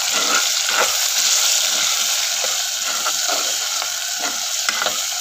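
Black pepper, onion and ginger are stirred in a pot of hot oil for chicken tinola. A steady, close sizzle runs throughout, broken by a rhythmic scrape of the spoon.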